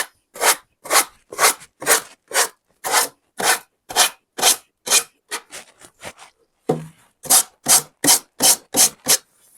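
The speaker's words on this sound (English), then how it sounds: "You just get a sanding block and go down." A hand-held sanding block scrapes down a piece of furniture in steady rhythmic strokes, about two per second, close and fairly loud, with a brief pause and a few lighter rubs midway before the regular strokes resume.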